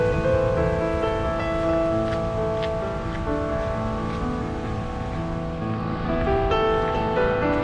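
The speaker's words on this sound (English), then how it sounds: "there's quite the background here with the waves crashing" Ocean waves crashing along the rocky shore by Amphitrite Lighthouse in Ucluelet, British Columbia: a steady, broad wash of surf rumbles throughout at moderate loudness, with no talking.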